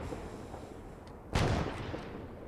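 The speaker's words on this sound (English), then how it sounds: "We should see these mortars hit around here in the middle." A mortar shell impacting in Arma 3, one sudden distant crump that rises out of low background rumble and fades over a fraction of a second.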